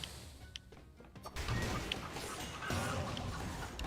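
Chickens clucking in the video game Dead Cells, heard as short, fairly faint clucks and squawks mixed with combat thuds and crashes.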